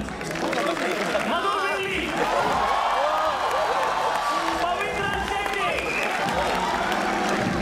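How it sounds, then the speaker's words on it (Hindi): An audience claps for a team at a roast battle, a steady wash of applause and crowd noise running under continuous talk from a nearby voice. "टीम 2 के लिए तालियां एक बार।"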